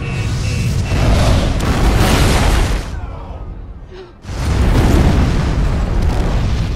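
A loud explosion from an action film, a heavy roaring blast that rumbles for about three seconds, drops briefly, then surges again into a second sustained booming roar.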